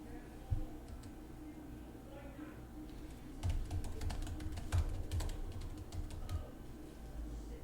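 Computer keyboard keys being typed in a quick, irregular burst of clicks, close and fairly soft over a low room rumble, with a few lighter taps at the start.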